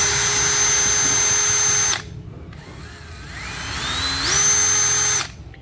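Bosch three-function brushed hammer drill, rated at 11,900 rpm, running in hammer mode: a loud high whine with harsh rattle that cuts out briefly, then spins back up with rising pitch and stops.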